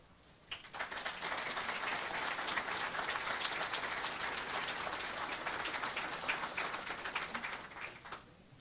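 Applause from a ceremony audience for the Tribunal de Contas do Paraná rises quickly and holds as a dense, steady clatter of many hands, then drops off sharply near the end.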